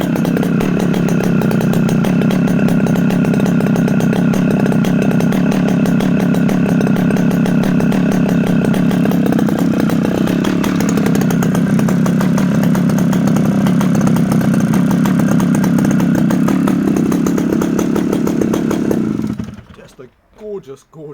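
A 1960 vintage chainsaw engine idles loud and close with a steady rough buzzing drone for nearly twenty seconds, then cuts out abruptly into a few faint trailing sounds.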